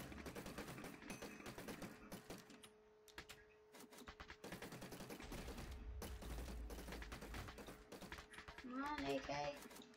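AK rifle fire in a zombies video game, bursts of shots mixed with game noise and explosions while a player talks excitedly over the action.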